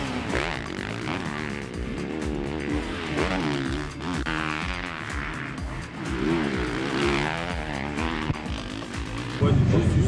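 Race cars lapping the Romagné circuit in France during a free practice session, engines droning continuously with shifting pitch as cars pass, a louder burst near the end.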